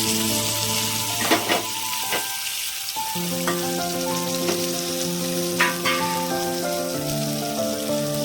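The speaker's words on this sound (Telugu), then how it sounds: "తాలింపు వేగిన తర్వాత శనగలు వేసుకున్నాను" Sprouted chickpeas added to a tempering with turmeric, frying in a pan with a steady sizzle and scattered pops, under soft background music.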